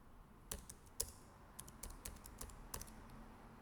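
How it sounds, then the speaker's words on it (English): Space bar and other keys on a computer keyboard pressed one at a time, a string of crisp, close plastic clicks at an uneven pace in a quiet room. "now if I want to give a space, I'll click on the space bar"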